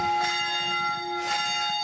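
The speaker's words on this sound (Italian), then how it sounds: "La campana della chiesa sta suonando mezzogiorno." A church bell rings out at noon in Gomarolo, Lusiana Conco, on the Asiago plateau, with two clear resonant strikes about a second apart and a long humming decay, fairly close and without voices.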